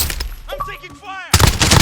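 Gunfire bursts in the Call of Duty Warzone video game, a sudden loud volley of rapid shots erupting near the end after a stretch of game voice and effects.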